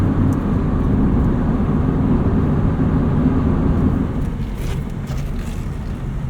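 Steady broadband road and wind roar inside a 1991 Honda Civic Si EF hatchback on the move, constant and fairly loud, easing slightly toward the end, with no talking.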